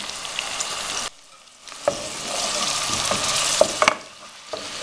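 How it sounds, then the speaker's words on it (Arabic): Half an onion frying in a little oil in a pot, loud continuous sizzle broken by a brief pause and a few sharp spoon scrapes while being stirred. "هنا في قدره درت شويه زيت وحطيت البصل، نص حبه بصل تاعي قلالي شويه"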